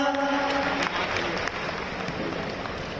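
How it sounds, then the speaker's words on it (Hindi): Applause rises for the third-placed Udaipur girls' tennis-ball cricket team at a closing ceremony in a stadium, a steady wash of clapping that carries on for about three seconds under faint crowd noise. "उदयपुर के लिए जोरदार तालियां।"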